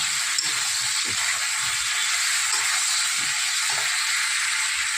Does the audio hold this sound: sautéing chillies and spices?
yes